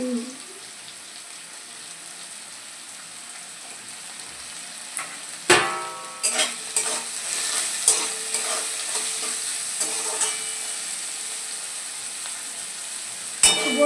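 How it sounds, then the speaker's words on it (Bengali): Potatoes fry in a pan and are stirred, giving a soft steady sizzle with scattered spoon-and-pan clatters that grow busier in the second half, with no talking. "দেখো আলুটা হালকা হালকা ভাজা হয়েছে"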